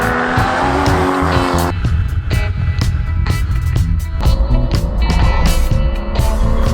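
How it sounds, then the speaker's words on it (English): A brand-new mid-engined Porsche Cayman GT4, its 3.8-liter 385-horsepower boxer engine driven hard on a race track, roars loudly and continuously up close, with tire squeal and a shift in pitch partway through. "The brand spanking new Porsche Cayman GT4. And this Porsche has the possibility of setting a track record"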